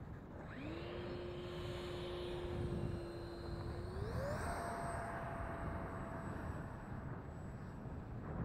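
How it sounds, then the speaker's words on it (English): RC model airplane, a UMX-scale electric warbird, taking off outdoors: a steady motor whine climbs in pitch as the throttle opens, over constant wind and field noise, with no talk. "All right, good takeoff."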